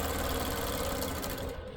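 A longarm quilting machine in regulated mode stitching ruler crosshatching, a steady close mechanical hum and rapid needle chatter that runs evenly for the whole short stretch and fades slightly at the end.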